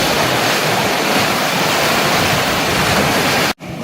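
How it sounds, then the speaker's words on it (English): Water rushes around a narrow canal lock at Middlewich: a loud, continuous broadband roar heard up close and alone, with a momentary dropout just before the end. "this is the water running round the lock,"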